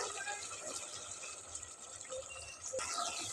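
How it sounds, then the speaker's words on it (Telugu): Water pours and trickles into a pan of simmering mutton gravy curry, a quiet continuous splash with soft background hiss. "ఇప్పుడైతే సిమ్లో పెట్టేస్తా ఒక రెండు నిమిషాలు సిమ్లో పెట్టేసి మగ్గ పెట్టేసి తగినన్ని నీళ్ళు పోస్తా"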